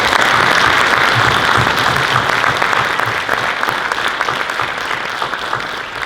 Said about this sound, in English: let's give them a round of applause to our speakers.